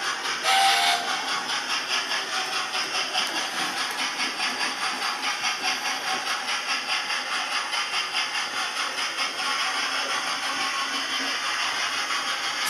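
A Hornby A4 model locomotive with a TTS sound decoder gives a short steam whistle blast at the start, then steady rhythmic chuffing continues close by.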